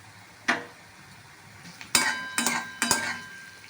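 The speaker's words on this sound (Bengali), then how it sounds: "প্রথমে কড়াতে পরিমাণ মতো সাদা তেল নিয়েছি, তারপর তাতে রসুন কুচি, পেঁয়াজ কুচি, গাজরগুলো দিয়ে ভালো করে নাড়া হচ্ছে" Spoon or spatula knocking and scraping in a kadai as chopped garlic, onion and carrots are stirred in white oil over a medium flame: four distinct metallic clanks with ringing tails over a faint background hiss.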